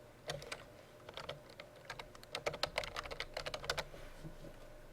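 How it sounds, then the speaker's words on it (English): Fingers type on a computer keyboard in bursts of rapid, crisp key clicks, close and fairly quiet, with brief pauses between runs. "So let me go type this up."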